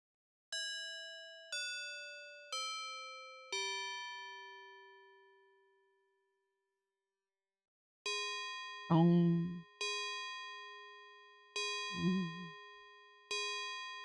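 Chiming bells in the video game The Colonel's Bequest: four descending struck tones, a long ringing fade, then a second series of bright clanging strikes, with short bursts of a voice talking between them.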